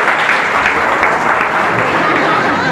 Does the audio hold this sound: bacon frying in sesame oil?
no